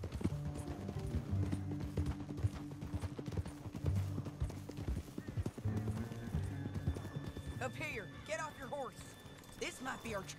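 Horse hooves clip-clop at a steady rhythmic pace in the Red Dead Redemption 2 western video game, with riders' voices talking over the hoofbeats and a whinny-like cry near the end.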